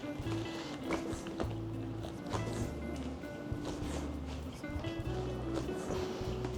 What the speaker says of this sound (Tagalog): try natin i-bounce guys yung rear suspension natin